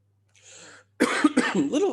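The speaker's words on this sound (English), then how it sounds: "Sorry for coughing into the mic." A soft breathy sound, then a close, loud fit of several harsh coughs right into the microphone.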